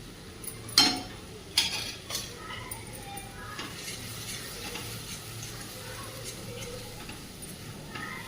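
Ground black masala paste sautéing in a pan for a moth bean curry, with a few sharp spoon clanks early on over a soft, steady background sizzle.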